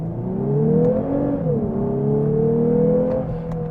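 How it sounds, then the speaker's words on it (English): A 2023 Lexus IS 350 sport sedan in Sport Plus, first gear, revving with its artificial active sound control, producing a smooth synthetic-sounding engine tone that climbs, dips and climbs again, close and steady with no talking. "does have some active sound control feature that I really don't like. It very much sounds like a computer."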